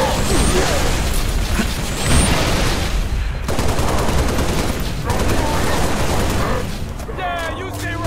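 Heavy gunfire in the Halo: Reach campaign, dense rapid bursts of automatic fire mixed with game effects and a loud battle din throughout, with character voices speaking over the shooting.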